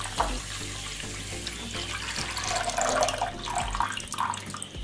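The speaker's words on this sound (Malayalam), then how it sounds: "ഇനി നമുക്ക് അതിനകത്തേക്ക് വെള്ളം 2 കപ്പ് അങ്ങ് ഒഴിച്ചു കൊടുക്കാം." Two cups of water poured onto sugar in a pan for jalebi syrup, a continuous close splashing pour that swells in the middle before easing off.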